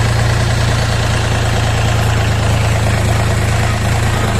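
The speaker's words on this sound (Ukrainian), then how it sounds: "Чуєте, як працює двигун." A Dongfeng 244DHX mini tractor's diesel engine runs at a steady idle, a loud, even low chugging drone held close throughout with no voices.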